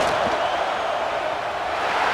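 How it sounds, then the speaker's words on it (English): Stadium crowd in a college football video game during a field goal attempt, a dense, steady roar of noise that holds loud and even throughout. "This crowd trying to do its part to get inside the kicker's head."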